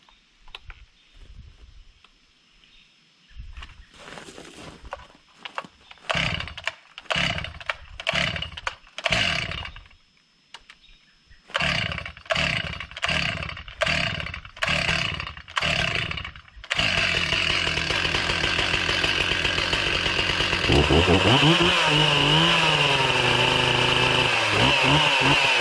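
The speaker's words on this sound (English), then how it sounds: "I haven't ran this 361 Stihl since last year. I just fueled it up." A Stihl 361 chainsaw sputters through a series of short pulled starts and brief revs, then roars steadily at full throttle and bogs down into a log as it cuts, loud and close.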